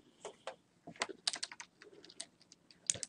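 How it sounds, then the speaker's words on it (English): Typing on a computer keyboard in bursts of quick, close keystrokes with short pauses, alone without talk. "then I'm going to type in it"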